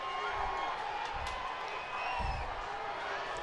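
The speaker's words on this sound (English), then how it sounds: "Crowd coming to life here in Chatham." A football crowd in Chatham cheers at a Friday night high school game, a steady wash of distant cheering and whoops with a couple of low thumps, and no clear talk over it.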